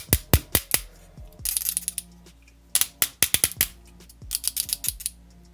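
The ratcheting shoulder joint of a Transformers Legacy Leader Class Skyquake plastic toy is rotated close up, giving bursts of sharp, rapid clicks separated by brief pauses.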